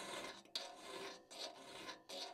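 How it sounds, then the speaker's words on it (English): A file rasps across the raker teeth and gullets of an old cross cut saw, three long close strokes separated by brief pauses, steady and alone with no talk. "we've sharpened the raker, we've cleaned out the gullet."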